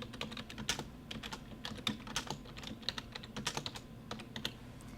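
Someone types a description on a computer keyboard in print-shop management software, producing a quiet, continuous run of quick keystroke clicks for about five seconds.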